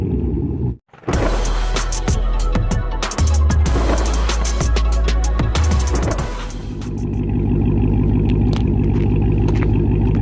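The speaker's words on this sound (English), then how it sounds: "Stock exhaust, muffler deleted." A Dodge Hellcat Widebody with stock exhaust and muffler deleted rumbles and revs loudly with a raw, unmuffled exhaust note, then settles into a deep, throbbing idle.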